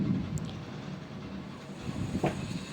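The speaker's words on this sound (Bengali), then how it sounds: "এই যে পাস করছে বন্দে ভারত" A Vande Bharat train passes through a station as a low, steady rumble with broadband hiss, fairly faint and distant-sounding, swelling slightly near the end.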